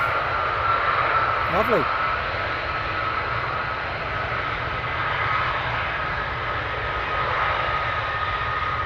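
F-15 fighter jets taxi at RAF Lakenheath, giving a steady, moderately distant engine roar that holds through the whole stretch, with a brief voice speaking over it.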